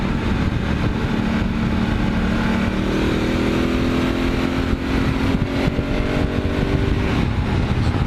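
A Honda Africa Twin motorcycle rides at steady speed, its engine droning continuously under constant wind rush, with a slight rise in pitch partway through.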